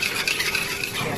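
Cold-process castile soap mixture with sunflower oil being stirred by hand instead of with a stick blender; a continuous close scraping and swishing with faint clinks, steady and unbroken, no talking.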